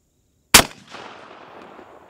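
A shotgun fires a 3.5-inch magnum double-aught buckshot load at a target 10 yards away. One sharp, loud blast is followed by a long rolling echo, with no talking.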